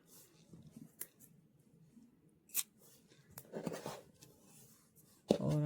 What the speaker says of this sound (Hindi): और इस वाले धागे को काट लेना है